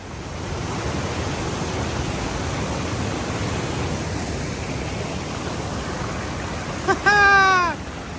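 A steady, broad rush of a waterfall fills the whole stretch, loud and unbroken, with a brief voice near the end, on New Zealand's Te Araroa Trail.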